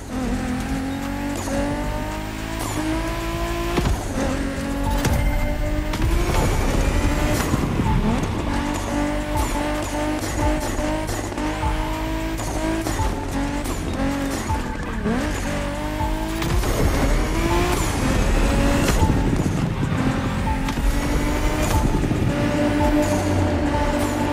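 Porsche 911 Turbo 3.6 in a racing video game, engine roaring continuously with repeated revving rises, gear changes and occasional tire squeal, loud and close throughout.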